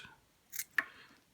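Two quick snips of scissors trimming excess rubber band off a catapult slingshot pouch, close and crisp in a quiet room.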